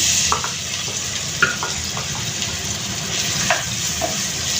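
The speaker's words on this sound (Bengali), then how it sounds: "পেঁয়াজটাকে আমি একটু ভেজে নিব হালকা ব্রাউন কালার করে আমি পেঁয়াজটাকে ভেজে নিব" Chopped onions fry in hot soybean oil, giving a steady crackling sizzle with occasional sharper pops and spatula scrapes as they are stirred, close and continuous without speech.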